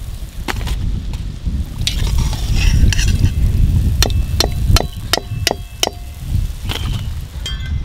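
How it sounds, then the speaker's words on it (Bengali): Palm fritters (taler bora) deep-frying in hot oil during the rainy season, a dense crackling bubble up close with a run of sharp metallic ladle taps against the pan near the end, no talk. "খুব ভালো করে ভাজা হয়ে গেল, তুলে নেব।"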